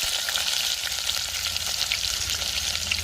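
Chopped large onions sizzling in hot oil with curry leaves and fenugreek for a sea fish curry: a steady, close, crackling fry with bright spitting texture, no talk.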